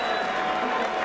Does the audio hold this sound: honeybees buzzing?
no